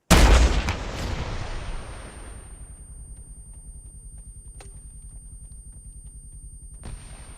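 A rocket fires with a loud, close boom in a military shooter training match against BTR and BMP armored vehicles. The blast rolls off into a long fading rumble, and a faint crack is heard later.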